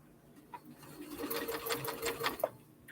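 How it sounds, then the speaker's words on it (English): A sewing machine stitches a quarter-inch seam on a fresh pears quilt block, a quiet, rapid mechanical whir that builds and runs for a couple of seconds, close and alone. "I'm going to sew 1/4 of an inch"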